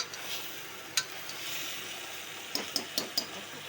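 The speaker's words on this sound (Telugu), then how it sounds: "బ్యాళ్ళని వేగినాక 5 నిమిషాలు దీన్ని వేయించి మళ్ళీ నీళ్ళు పోసుకొని" Pigeon pea lentils fry in a pan with a soft steady sizzle, broken by a few sharp clinks of a spoon stirring against the metal, quiet and close, with no talking.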